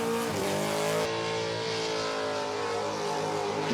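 A race car engine screams at sustained high revs, holding a loud, steady pitch with a brief shift partway through.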